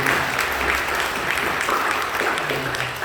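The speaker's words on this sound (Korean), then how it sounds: "우리 사랑하고 격려하며 박수 주시기 바랍니다" A church congregation applauds together during a Korean worship service, a dense, steady clatter of many hands filling the room for about three seconds with no break.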